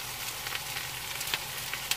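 Finely chopped garlic sizzles in a frying pan with broccoli, a steady close hiss with small crackling pops, alone without talk.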